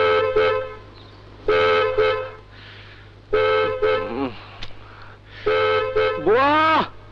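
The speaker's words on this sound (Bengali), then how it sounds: "বুয়া, দেখো না কে হর্ন বাজাচ্ছে।" A car horn honks in several separate bursts of toots spread across the moment, the last one sliding in pitch, with quieter gaps between and voices heard faintly.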